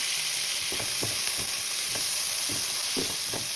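Chopped tomato and two green chillies sizzling in a pan for a white potato curry, a constant bright hiss with soft, uneven scraping thuds of stirring underneath.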